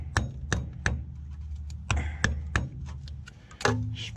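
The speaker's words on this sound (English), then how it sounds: "you don't need that gigantic hammer that I'm using" Heavy blows from a large hammer strike the rusted front hub of a 2008 Toyota Tundra 4x4 in an uneven series, about ten sharp metal impacts ringing close by.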